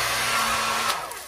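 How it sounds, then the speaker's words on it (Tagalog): A Panasonic hair dryer runs close by with a steady, loud blowing roar for the whole moment, with a slight shift in tone near the end. "May nakuha na naman tayong dryer, mga ka-diggers"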